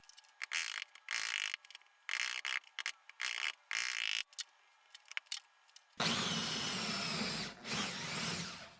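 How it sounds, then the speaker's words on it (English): A power drill bores a dowel hole into wood through a doweling jig, whining in short repeated bursts and then grinding in one long, loud continuous run at the end. "I used my doweling jig and drilled a hole as far as it could go."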